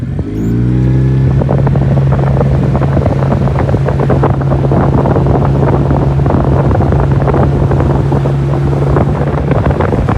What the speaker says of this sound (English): Okay, we got some wind.